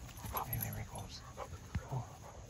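Two dogs play roughly together, giving soft whimpers, yips and panting in short bursts at moderate distance.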